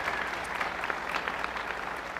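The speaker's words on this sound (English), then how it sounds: "Let's give yourself a round of applause" Steady applause from a full-house crowd at a swing music concert, dense clapping that holds at an even level throughout with no voices standing out.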